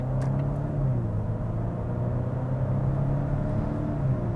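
Steady engine drone of a Volvo V60 Cross Country while driving, a low rumbling hum with a constant tone heard from inside the cabin, smooth and continuous with no speech.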